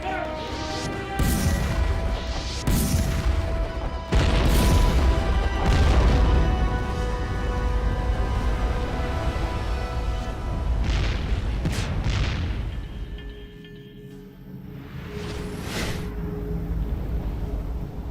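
Repeated heavy cannon blasts from warships boom out one after another, loud and reverberant, with rumbling echoes between shots and a quieter lull near the end.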